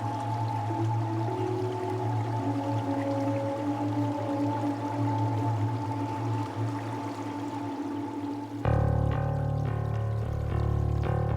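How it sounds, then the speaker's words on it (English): Water steadily drains from the dock of the Yacht Express transport ship, a continuous rushing with deep tonal machinery hum, joined near the end by a louder rumbling mechanical drone. "The water drains."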